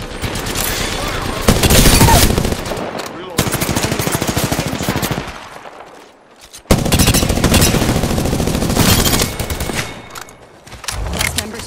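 Apex Legends gunfire rattles in long, loud automatic bursts, broken by a brief lull midway before heavy firing resumes at close range.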